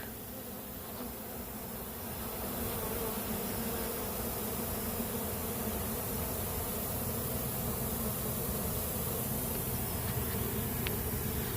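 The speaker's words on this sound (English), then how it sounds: "they love watching swarms and love just watching bees in general working like this" A ten-pound honeybee swarm churns through a bee yard, its dense, steady buzz filling the air continuously and growing slightly louder after the first couple of seconds, with no voices.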